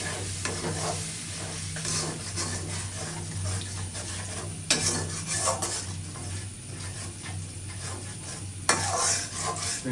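Spice masala with salt and red chili powder stirred and fried in a pan, a continuous sizzle with scraping spoon strokes and occasional louder clanks against the pan, no talking.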